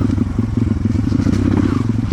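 A stock Kawasaki KLX dirt bike held at high throttle while climbing a trail, its engine roaring loud and close with a steady, slightly pulsing drone and faint clatter from the terrain.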